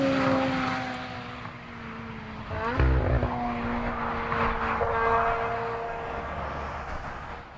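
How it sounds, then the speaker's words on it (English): Jaguar C-X75 hybrid supercar on a test circuit in full dynamic hybrid mode, a loud engine note that sweeps up and shifts, with a throaty surge partway through, continuous and without talk. "we've just been out driving the Jaguar C X75, first with Mike Cross at the wheel, and then myself around Jaguar's testing circuit in the full dynamic hybrid mode"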